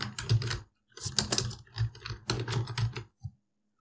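Keys clatter on a computer keyboard as a name is typed into a Windows user-name field, coming in quick, close bursts of rapid taps separated by short pauses.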